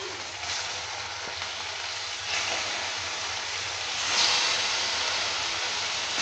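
Meat rubbed with salt and turmeric fries in a pan for a papaya meat curry, giving off a steady, bright sizzle that rises slightly partway through. The sizzle is close and continuous, and no one speaks.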